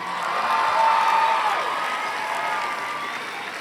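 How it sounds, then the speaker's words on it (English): A university commencement audience applauds, a broad, distant wash of clapping from a large crowd that stays even and sustained, with a faint cheer mixed in. "I ask the class of 2017 to give them a round of applause."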